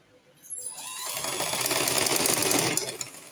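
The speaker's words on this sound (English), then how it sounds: "Take your machine down, your machine foot down, then continue stitching." A sewing machine stitches lace fabric for a gown, starting from quiet and ramping up into a fast, close, steady mechanical whir with rapid needle clatter before easing off.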